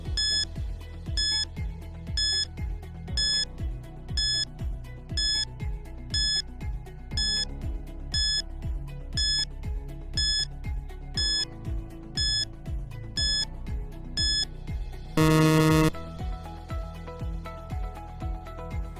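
A classroom countdown timer sounds off with a long run of steady, evenly spaced electronic beeps over a low rhythmic backing, capped near the end by a brief, louder burst.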